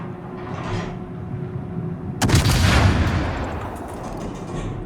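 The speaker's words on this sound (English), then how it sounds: "Graf Spee does have Scharnhorst guns, and these are very punchy guns" A naval video game battleship, the Graf Spee with Scharnhorst guns, fires a single loud, punchy salvo that booms suddenly after a low steady rumble, then trails off in a long rolling echo.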